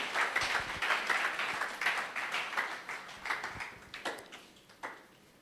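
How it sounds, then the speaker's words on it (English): Conference audience at an emergency medicine society meeting clapping to welcome a speaker, a moderate round of applause that gradually thins and fades toward the end. "With another round of applause, please let's welcome Professor Entrikusi"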